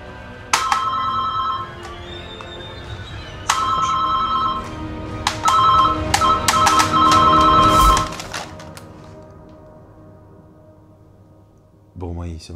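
A hotel room telephone rings in repeated electronic bursts near the listener, several rings separated by short gaps, mixed with knocking and handling noise before it falls quiet.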